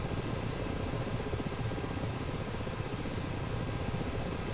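Helicopter in a flight combat video game, a steady dense rotor and engine drone holding at constant loudness throughout with no talk.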